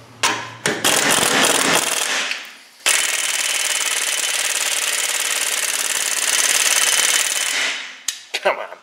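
A 3/8-inch impact gun loosens tight wheel bearing bolts, hammering in a long, loud, continuous burst after a couple of short starts, with brief clatter at the end.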